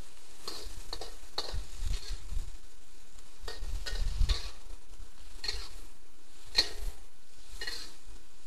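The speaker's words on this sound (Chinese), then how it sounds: "放入豆芽、红萝卜、 略微拌炒之后，加入水50cc" Bean sprouts and carrots are stir-fried with shredded chicken in a pan, giving a soft, continuous sizzle under repeated scraping stirs and occasional sharp utensil clinks, with no talking.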